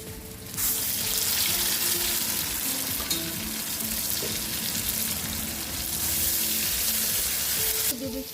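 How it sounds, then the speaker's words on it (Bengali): Ground dried chili, cumin and garlic paste drops into hot oil for a homemade duck curry, giving a sustained, fairly loud sizzle that starts abruptly and runs for several seconds before cutting off, with a brief spoken phrase. "শুকনো লঙ্কা আর জিরে রসুন মশলাটা তেলের ভিতরে দিয়ে দিই"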